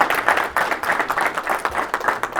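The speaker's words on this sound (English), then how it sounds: "Give a round of applause to Matt and Jeff putting on such a great wee" Audience applause at a live real estate investing event, a short burst of clapping from a room of people, fairly steady and moderately loud throughout.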